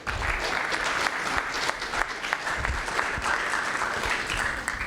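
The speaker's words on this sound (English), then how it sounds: "Let's give him a round of applause." At a Benzinga event on Michigan policy and regulation, an audience applauds a panel moderator with steady, moderately distant clapping that continues evenly throughout.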